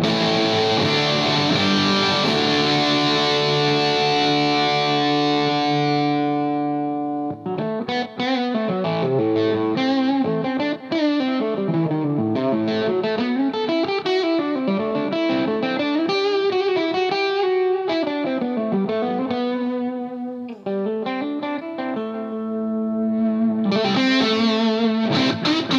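Electric guitar played through a Vox Satchurator distortion pedal, with the gain high and the guitar volume knob being adjusted, gives loud, sustained driven chords and melodic lead lines for about 26 seconds, with a brief pause near the start and no talking.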